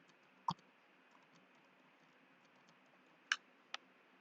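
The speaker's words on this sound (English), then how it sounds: "here I'm just typing rising sun" A few faint, sharp keystrokes on a computer keyboard while a name is typed into office software, with three isolated clicks spaced apart in a quiet room.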